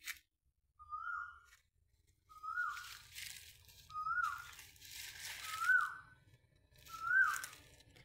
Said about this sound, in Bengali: কোকিলের ডাক অনেক সুন্দর, কোকিল ডাকতেছে দেখেন।